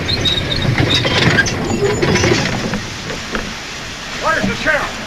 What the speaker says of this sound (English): Don't that train make enough noise?